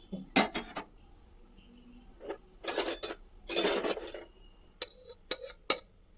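A cooking pot set on the stove clanks and scrapes in irregular metallic bursts, close and fairly loud, with quiet gaps between the knocks.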